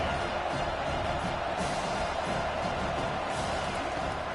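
Stadium crowd in College Football 25 keeps up a broad, steady roar of cheering and noise, filling the whole stretch at moderate distance without a clear peak.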